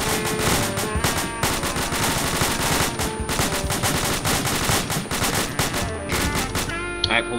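Rapid machine-gun fire during an Army Ranger field exercise, loud dense bursts of shots rattling almost continuously for several seconds.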